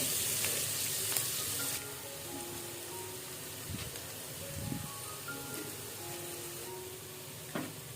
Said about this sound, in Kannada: ಈರುಳ್ಳಿ ಬೇಯ್ತಾ ಇದೆ, ಉಪ್ಪು ಹಾಕ್ತಾ ಇದ್ದೀನಿ ಸ್ವಲ್ಪ.